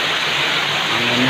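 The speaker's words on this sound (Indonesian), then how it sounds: "Anginnya kencang." Strong wind gusts roar with steady broadband rushing through an afternoon rainstorm, loud and close, with no talking over it.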